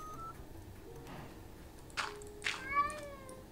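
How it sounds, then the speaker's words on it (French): A Minecraft cat swimming in water gives a few short meows in quick succession near the end, clear over a quiet background hum, with no speech. "j'ai un chat qui se baigne dans l'eau"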